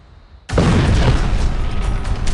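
A bomb explosion, a nearly 1000 kg air-launched munition that scatters thousands of bomblets, erupts suddenly after near silence into a loud, sustained roaring blast that keeps rumbling to the end.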